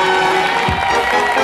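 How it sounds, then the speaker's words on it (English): Audience at a circus show in a hall, clapping and some cheering in a dense, loud wash that fills the whole moment, with a brief low thump partway through. "Ladies and gentlemen, boys and girls, a big round of applause for the circus"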